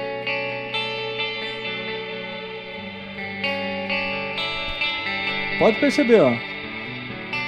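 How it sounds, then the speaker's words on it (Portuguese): Arpeggiated electric guitar through a Zoom G1On effects unit with shimmer reverb, ringing notes picked one after another under a sustained, bright wash of reverb; someone speaks briefly over it near the end. "Você escuta a guitarra arpejando e o reverb junto com ele."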